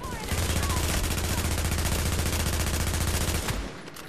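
Rapid automatic gunfire from enemy NPCs in The Division's Dark Zone, a dense continuous burst of shots lasting several seconds, loud and close, before cutting off abruptly.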